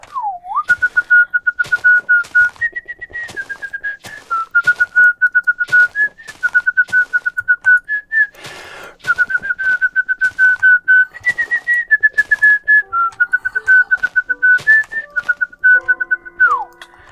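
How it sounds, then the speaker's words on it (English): Clear, close whistling of a song cover, a sustained melodic line of held notes and small pitch steps, performed solo with brief breaths between phrases and no other sounds. "We do song covers in whistling."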